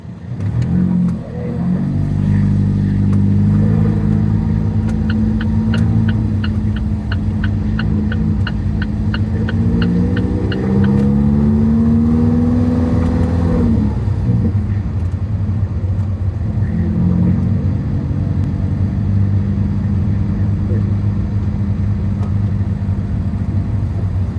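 An Alfa Romeo 4C sports car driven at full throttle on a race circuit, its engine roaring loud and continuous from inside the cabin, climbing through the revs, briefly dropping on a shift, then holding a steady heavy drone.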